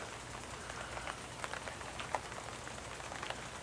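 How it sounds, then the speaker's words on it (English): Steady rain patters on surfaces, a dense hiss of drops with occasional louder taps, close and continuous with no speech. "it's raining right now"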